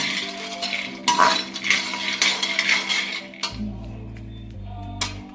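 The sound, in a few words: dry frying jowar snack mixture in a pan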